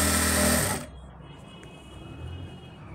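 Sewing machine stitching fabric pleats on a salwar, a loud steady mechanical whir for under a second that stops abruptly, leaving faint room noise.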